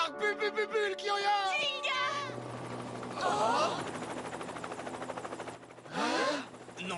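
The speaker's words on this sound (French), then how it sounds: "Encore cet hélicoptère!" A helicopter's rotor chop thrums steadily in an anime scene, moderately loud and continuous for several seconds, with voices and other sound effects layered over it at the start and end.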